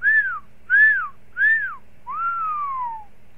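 A person whistles three short rising-and-falling notes, then one long descending whistle, imitating an animal call, clear and alone.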